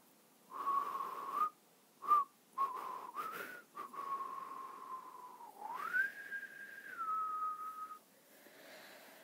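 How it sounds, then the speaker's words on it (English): A person whistles a slow, wavering tune in several short phrases, then a longer sustained passage that glides upward and settles, alone in a quiet room. "Anything you like, said the footman, and began whistling."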